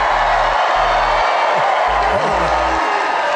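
Large crowd at a political rally in North Carolina, a dense, continuous roar of cheering and whoops filling the space, with a low hum breaking in and out beneath it.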